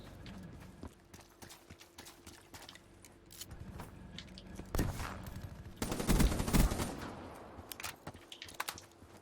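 Automatic turret fire in Call of Duty Black Ops 3, heard as bursts of rapid gunfire that grow louder and denser toward the middle, mixed with other game sounds.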